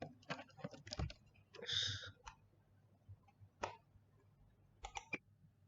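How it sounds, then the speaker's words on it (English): Keys on a computer keyboard are tapped in short irregular bursts as numbers are entered, close and fairly quiet, with pauses between clusters of clicks. "Now I can only type numbers here and nothing else."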